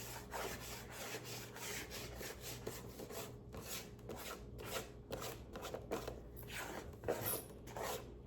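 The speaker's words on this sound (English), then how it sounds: "Just scrape all of that extra flour down in there." Flour scraped off a cutting board into a slow cooker while making kettle beef tips: repeated close, rhythmic rasping scrapes of a utensil across the board, steady for several seconds with no talk.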